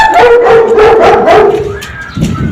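Dogs bark, yip and howl loudly nearby in a short, excited burst, their cries overlapping for a couple of seconds at a home where the dogs are being bathed in hot weather.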